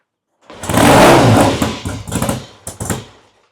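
A 1967 Triumph TR6 motorcycle engine on its first start, kicking into a loud, rough burst of revving that dips, surges again in a few uneven blips, then dies away.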